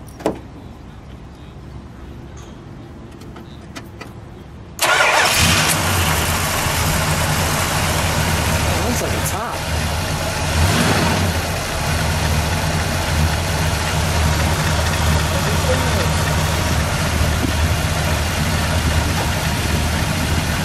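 A 1974 Chrysler New Yorker Brougham with a 440 engine stays quiet for about five seconds, then cranks and bursts into a loud, close, steady rumble that keeps running to the end.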